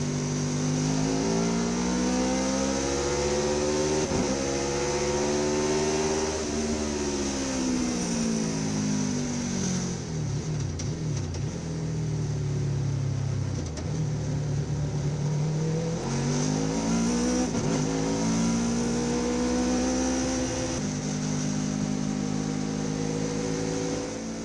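Formula open-wheel race cars at the Southwest Speed Festival, engines screaming through rising and falling gear changes, loud and close, shifting up, braking down and accelerating again with other cars audible nearby.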